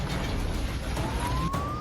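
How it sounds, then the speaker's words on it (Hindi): Air raid sirens sound across Dnipro city during a missile attack, a rising wail that swells out of dense, loud background noise toward the end. "हवाई हमले के चलते पूरे शहर में सायरन बजने लगे"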